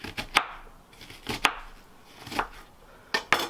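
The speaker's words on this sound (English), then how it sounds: "And then chop it again." A knife chops vegetables on a cutting board for Thai cooking, with a handful of sharp, separate strikes at an uneven pace, close up and with no talking.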